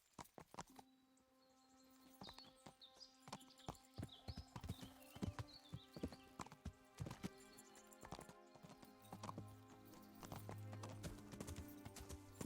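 Horse hooves in Kingdom Come: Deliverance, scattered clopping steps that build into a busier rhythm, with sparse background tones and a low sustained note near the end.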